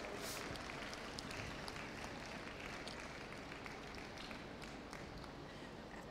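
Crowd applause fills a national alpaca show arena as the female champion is honoured, a steady, dense wash of clapping that holds level throughout without any voices.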